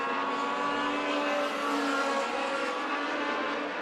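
US Legend race cars roar around Tucson Speedway during a B-Main race, a dense, steady engine drone from several cars blending together at mid distance for the whole stretch.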